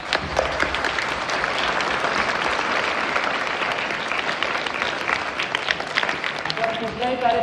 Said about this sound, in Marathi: एकदा सगळ्यांनी छान टाळ्या वाजवा